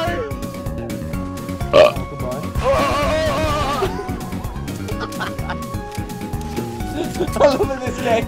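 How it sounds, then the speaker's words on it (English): A burp rings out during a Battlefield: Bad Company 2 match, brief and close, mixed with game sounds and music while a person talks. "I was kind of burping and trying to do a parachute kill at the same time."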